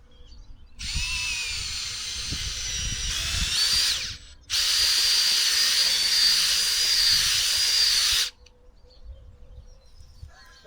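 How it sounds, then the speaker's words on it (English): A small power drill boring planting holes for potatoes in soil runs in two long, steady whining bursts with a brief stop between, loud and close, then cuts off to quiet outdoor ambience. "Stewart went out and got me a small drill to use to make the holes."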